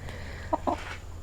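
Chickens give two short, distinct clucks close to the microphone over a steady low background hum, with no talk.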